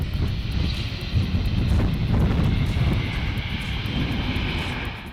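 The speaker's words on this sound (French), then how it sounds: "D'ici, le point de vue est idéal pour s'adonner aux joies du spotting, autrement dit, voir décoller ou atterrir les avions de ligne." A jet airliner comes in to land near the airport at the mouth of the Rivière des Pluies, its engines roaring steadily and loudly close by with some wind buffeting the microphone.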